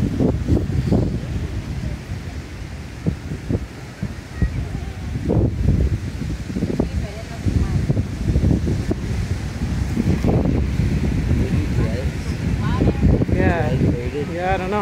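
Strong wind buffets the microphone at Flamingos Beach in Puerto Vallarta, with loud, gusty rumbling bursts over a constant background roar and faint voices nearby.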